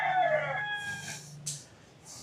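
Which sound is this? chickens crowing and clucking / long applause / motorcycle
chickens crowing and clucking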